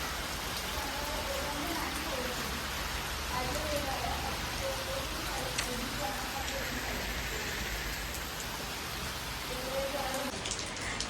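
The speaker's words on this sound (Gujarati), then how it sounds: "બહુ વરસાદ પડે છે" Heavy rain falls steadily in a constant, even hiss of drops on surfaces, with faint voices murmuring underneath.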